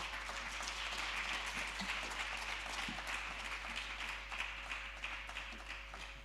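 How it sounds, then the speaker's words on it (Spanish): An audience at a morning talk session at a film festival claps for a guest: dense, even applause from a seated crowd, sustained for several seconds with a low electrical hum underneath. "vamos a dar el primer aplauso de la mañana a Javi Amézaga."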